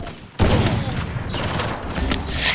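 Rapid gunfire bursts in the Free Fire Clash Squad video game, a loud sustained volley that erupts suddenly after a brief lull and keeps rattling densely to the end.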